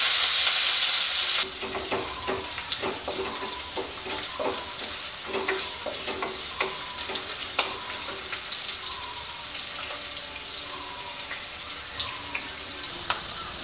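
Chopped onions and torn dried red chillies fry in hot oil in a pan, a steady close sizzle with scattered scraping stir strokes throughout, and no voices.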